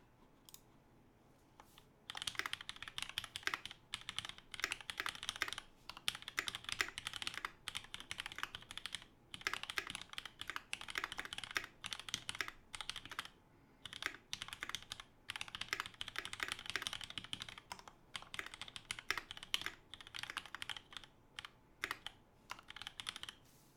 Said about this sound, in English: I love the sound of this keyboard.